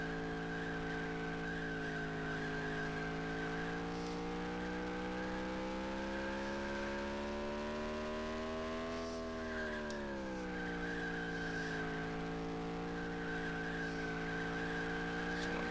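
A NASCAR Craftsman Truck Series race truck in NASCAR Racing 19 runs a qualifying lap, its engine holding a steady, loud drone that climbs in pitch and briefly drops before settling, with faint tire noise throughout.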